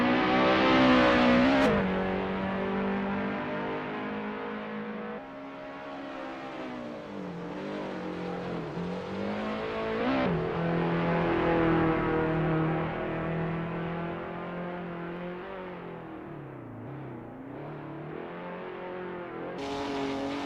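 Touring car on an out lap at Mid-Ohio in Assetto Corsa, engine revving up and down through gear changes, pitch rising and dipping over a sustained close, loud drone.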